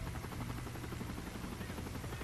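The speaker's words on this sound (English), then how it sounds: "here comes the chopper." A helicopter in Call of Duty: Modern Warfare 3 gives off a steady, dense rotor roar with a low throbbing pulse, loud and continuous throughout with no talk over it.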